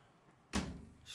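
A single solid thunk of a drawer being shut in a 2020 Thor Motor Coach Chateau Class C motorhome, close and sudden after a quiet moment, followed by a brief rustle.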